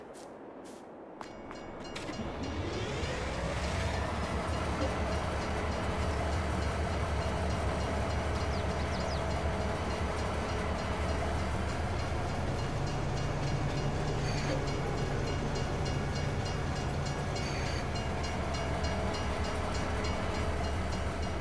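A train rolls past in the Farming Simulator video game in Edgewater, Saskatchewan. The steady, loud rumble and clatter builds within the first couple of seconds, then holds close and continuous for the rest of the clip, with no talking.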